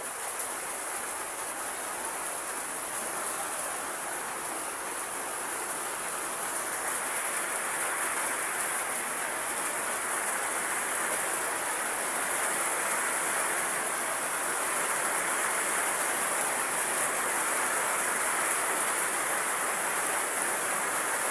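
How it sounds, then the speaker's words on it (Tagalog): Heavy rain falls outside a house, a dense, steady hiss that stays constant and fairly loud for about twenty seconds with no voices. "Grabe, lakas ng ulan."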